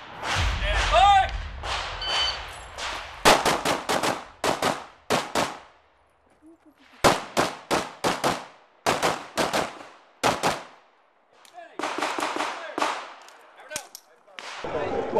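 Pistol gunfire at a USPSA shooting match stage in the Open Division at Renton: a voice calls out first, then rapid strings of sharp, loud shots come in quick bursts with short pauses between groups.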